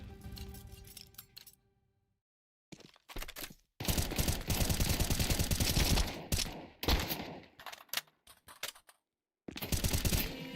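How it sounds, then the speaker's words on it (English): Rapid video game gunfire during a competitive league match, bursts of automatic fire and single shots separated by abrupt silent gaps, loud and close with metallic clinks. "A crisp headshot there for Zeth"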